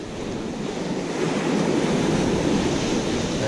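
Ocean surf on the rocky North Cornwall coast, a continuous close wash of breaking waves that swells louder partway through, with wind buffeting the microphone.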